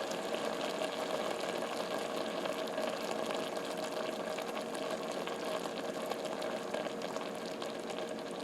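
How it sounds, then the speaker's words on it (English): Pot of pasta water for Velveeta taco mac and cheese coming to a boil, a steady, soft rushing bubbling that holds even and continuous throughout. "my Velveeta taco mac and cheese is coming to a boil"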